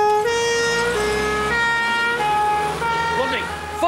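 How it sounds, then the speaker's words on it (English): Ambulance siren wailing loud and close in a London street scene from the BBC comedy Only Fools and Horses, with steady rising and falling harmonic tones running through the clip. "follow that ambulance"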